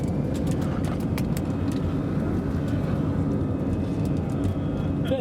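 An Airbus airliner departing Bristol accelerates down the runway on its takeoff roll, heard from inside the cabin as a loud, steady low roar of engines and rumble that fills the whole stretch with no break.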